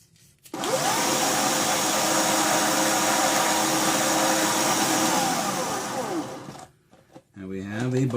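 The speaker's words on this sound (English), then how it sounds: "That flattens the pin out, and I will just hit it with the sandpaper." A metal security pin is sanded flat with sandpaper, heard as a loud, continuous motor-driven whirring grind lasting about six seconds whose pitch shifts slightly, then stops, followed by a brief spoken voice.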